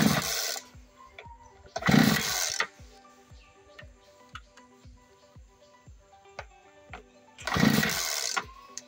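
A farm machine's engine cranks again and again without catching: three loud, rough bursts of starter noise separated by quieter stretches of rhythmic mechanical ticking.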